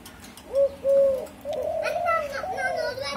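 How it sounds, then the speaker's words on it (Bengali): An emerald dove gives a few low, hollow coos, two short notes followed by longer drawn-out ones, fairly close and clear against light background noise. "আর যেটা ডাকতেছে এটা তো দেখছি ঢলকু।"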